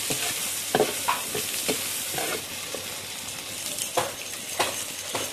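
Onions hiss and sizzle in oil as they are stir-fried in a pan for a Vietnamese free-range chicken dish, a steady close frying crackle with several sharp stirring scrapes and clatters.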